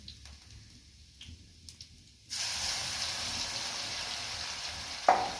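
Garlic drops into hot oil for a tadka for turmeric sabzi and bursts into a loud, steady sizzle after a quiet start, ending with a sharp clink.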